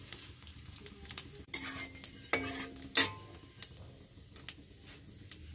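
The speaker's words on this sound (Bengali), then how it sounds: "তেলটা গরম হয়ে যাচ্ছে, এখন আমি ফোড়নটা দিয়ে দিলাম।" Cumin, cardamom and cinnamon dropped into hot mustard oil and ghee in a kadai give a faint, crackling sizzle, punctuated by a few sharp stirring and utensil clinks, close by with no talking.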